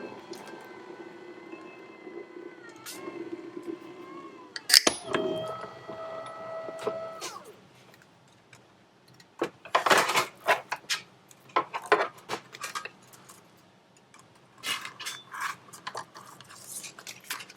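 Die cutting machine feeding paper between acrylic cutting plates, a humming motor tone early on, then a sharp clunk followed by bursts of crunching, grinding pressure noise as the sandwich rolls through.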